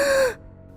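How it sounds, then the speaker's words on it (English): A woman gasps sharply on waking, a short loud intake of breath that breaks off abruptly and is followed by near silence, in a dramatised story setting. "She woke up with a gasp,"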